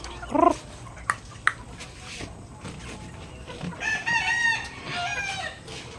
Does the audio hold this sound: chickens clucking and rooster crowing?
yes